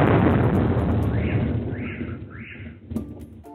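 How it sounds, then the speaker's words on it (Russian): A loud, rumbling explosion in the city of Tula, gradually fading, followed by a few faint whistling tones and a sharp crack near the end. "Сначала в городе был услышан вот такой взрыв."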